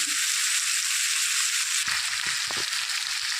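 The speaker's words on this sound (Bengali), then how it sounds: "হালকা লাল করে ভেজে নেবো" Katla fish pieces fry in hot oil until lightly browned, giving a loud, continuous sizzle and crackle with a few soft stirring scrapes near the end.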